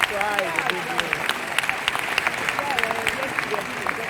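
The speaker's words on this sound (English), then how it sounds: "But we must give Jovena another round of applause." Conference audience applauding at a Nigerian Bar Association event, a dense, continuous clapping wash heard under a speaker's voice that carries on over it.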